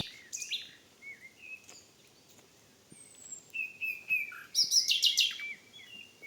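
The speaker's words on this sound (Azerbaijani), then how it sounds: "Quşların gözəl səsi ilə sizi baş-başa qoyuram." Several birds chirp and whistle outdoors in Ilisu, Qax, in scattered bursts, with a brighter trilling song near the end against a quiet background.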